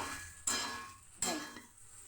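Food sautés in a pan with a faint background sizzle, broken by two sharp stirring scrapes or clinks of a utensil against the pan, close and quiet.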